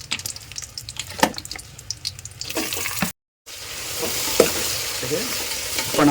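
Chillies frying in oil for a village-style country chicken fry, a close crackling sizzle with sharp stirring scrapes, broken by a short silent gap before the frying grows louder.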